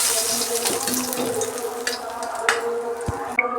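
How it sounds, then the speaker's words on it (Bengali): Vegetables fry in hot oil left over from frying fish, a close, steady sizzle with crackles and small pops scattered through it. "ওই তেলে আমি সবজিগুলো ভেজে নিচ্ছি।"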